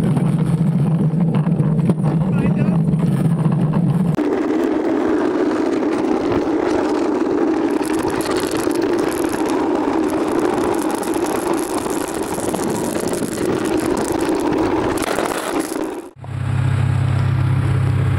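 A fast motorboat's engine runs loud and close with a steady droning roar over rushing water and hull rattle, shifting pitch partway through and briefly dropping near the end.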